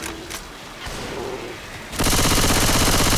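Gunfire in Left 4 Dead 2: after a couple of seconds of quieter game ambience, a loud, rapid burst of automatic fire erupts and keeps going steadily to the end, close and dominant.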